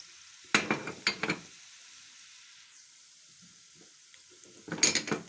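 Onions for a bessara topping fry in a pan in two short bursts of close, crackling sizzle, each lasting about a second, separated by near silence.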